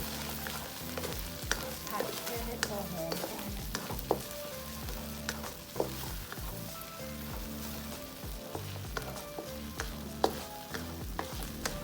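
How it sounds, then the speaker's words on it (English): Salted egg sauce for prawns sizzles and crackles in a pan on medium heat as it is stir-fried, with a steady dense frying hiss and frequent small pops and scraping stirs, close and continuous. "We are going to stir fry this on medium heat until they become really fragrant."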